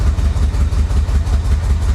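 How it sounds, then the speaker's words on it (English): A 1985 Chevy Corvette engine, recovered from a Florida swamp and running smoky, gives a loud, steady low rumble with a slight rhythmic pulsing and no clear rev rise, with no voices. "Now I'm gonna hit the throttle."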